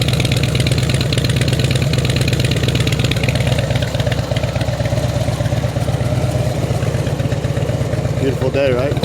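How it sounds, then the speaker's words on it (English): A 2007 Harley-Davidson Electra Glide Ultra Classic idles close by with a loud, steady, loping thump. A voice speaks over the engine. "Let's fire it up. So you can hear it run."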